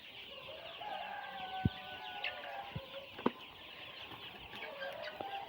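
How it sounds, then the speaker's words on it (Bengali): Hybrid commercial broiler chickens on a poultry farm make a soft, steady murmur of clucking and chirping, with a few sharper individual calls standing out above the flock. "মুরগিগুলো কিন্তু মাশাল্লাহ বেশ ভালো আছে, দেখতেই পাচ্ছেন"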